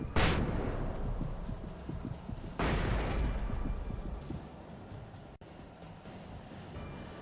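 Two flashbang grenades detonating in a video game, each a sharp loud burst followed by a long, noisy ringing decay, the second arriving about two and a half seconds after the first.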